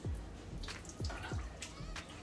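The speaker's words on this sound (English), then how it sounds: "So what we want to do now is drain the greens" Water draining off freshly washed collard greens in a kitchen, a soft run of trickling and dripping with a few irregular splashes, close and fairly quiet.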